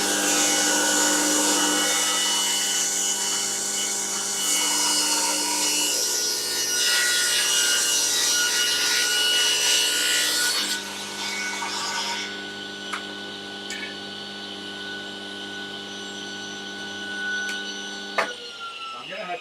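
Table saw ripping through wood while dust extraction runs, a steady loud whine with cutting noise for about ten seconds, then the blade and extractor hum continue more quietly with a few small clunks.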